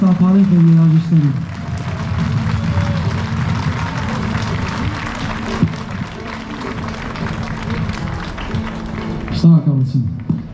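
Sustained applause from a concert audience for a state ensemble of Armenian national folk instruments, steady dense clapping throughout, with a voice speaking over the start and end.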